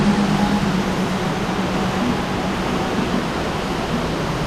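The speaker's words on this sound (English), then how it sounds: "All the cicadas singing, the water running." Steady broadband wash of running stream water and a dense drone of cicadas fill a Bali setting beside a temple, loud and continuous with no pauses.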